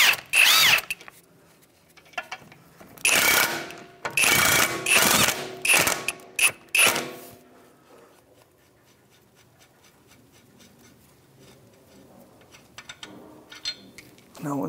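A power tool with a 17 mm socket spins lug nuts off a 2007-2013 Mitsubishi Outlander wheel in several loud whirring bursts, followed by quieter clinks and handling noises.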